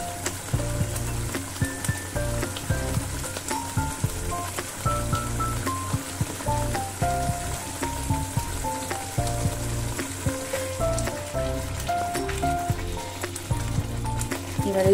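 A spice paste with salt and turmeric, being cooked down for a duck egg curry, sizzles and crackles in hot oil, with steady close frying hiss and frequent clatters of a stirring utensil throughout.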